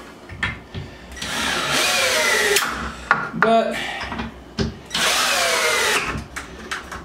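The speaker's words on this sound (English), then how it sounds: "I figured we'd be safe enough to use our drill." A power drill drives screws during assembly of a Greyleigh Bellmead twin-over-twin wooden bunk bed, heard in a couple of sustained whirring bursts with ratcheting clicks and handling knocks between them, close by with brief talk.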